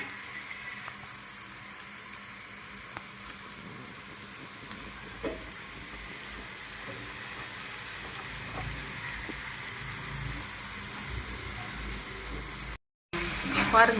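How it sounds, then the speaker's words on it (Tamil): Potato French fries frying in oil over a low flame: a soft, steady sizzle with small popping crackles throughout, fairly quiet, with a voice talking over it. "நல்லா சிம்மில் வச்சு நம்ம ஃப்ரை பண்ணோன்னா நல்லா அந்த ஸ்கிரிப்பியாக இருக்கும்"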